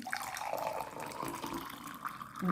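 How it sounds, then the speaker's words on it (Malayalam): Hibiscus-leaf water poured into a glass, a continuous close liquid pour that runs steadily for a couple of seconds and rises a little toward the end. "ഞാനൊരു ഗ്ലാസ് എടുത്തിട്ടുണ്ട് അവത്തിലേക്ക് നമുക്ക് കുറച്ച് ഒന്ന് ഒഴിച്ചു കൊടുക്കാം"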